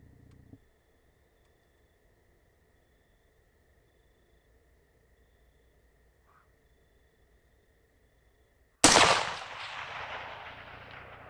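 A single loud rifle shot cracks out at a night shooting range after a long stretch of near silence, its echoing tail fading slowly.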